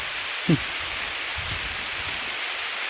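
A continuous wash of heavy, wind-driven rain on a farm during a storm, with a brief faint voice-like sound near the start.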